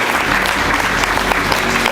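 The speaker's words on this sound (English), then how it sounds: "A big round of applause for our birthday boy, Michael." An audience at a dance group show claps for a birthday celebration, with dense, sustained applause filling the whole moment at a loud, steady level.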